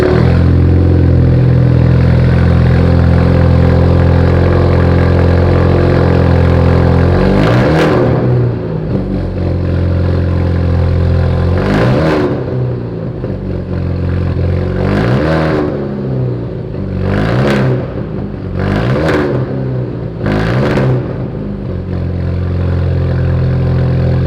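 An Alfa Romeo Giulia with a Remus catback exhaust and quad tips idles with a deep, steady burble, then gets several sharp revs in quick succession, loud and close with no talk.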